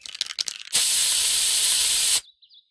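A cartoon pepper spray fires a loud, steady, close hiss that holds for about a second and a half and cuts off abruptly, preceded by brief rustling.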